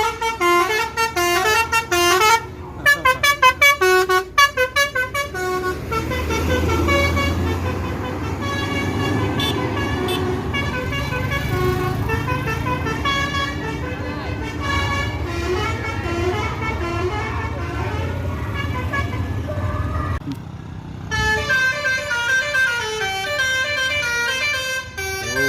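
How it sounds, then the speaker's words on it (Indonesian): Palala intercity bus horns honking in loud repeated melodic toots, with a sustained engine rumble underneath and the horn pattern returning near the end, close and dominant. "Ini bus Palala yang kedua."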